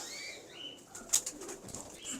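A pigeon coos faintly close by, with light chirps and airy rustles over a quiet background, the calls coming in short irregular bursts.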